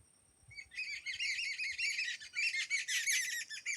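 Bright, rapid chirps and whistles from a bird likened to a green parrot, calling near a coconut tree; the calls start after a quiet moment and keep up in busy, overlapping bursts.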